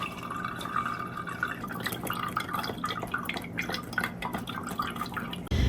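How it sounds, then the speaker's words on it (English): Fire cider mixture is strained, and liquid drips and trickles steadily into a container, up close and at a moderate level. "Now I'm just going to strain the mixture."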